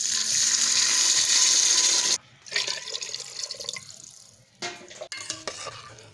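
Water poured into mung dal for vegetarian khichuri, a steady loud splashing stream for about two seconds, then quieter intermittent clinks and stirring sounds with brief splashes.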